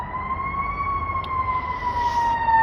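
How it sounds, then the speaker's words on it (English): An emergency siren wails steadily over the rumble of a loud, busy street, traffic noise constant underneath the sustained tone throughout. "There's a very loud, busy street right next to me right now"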